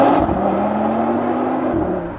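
A 500 hp Audi RS3 stage 2 with a Milltek exhaust accelerates hard, its loud, close engine note climbing steadily for about two seconds.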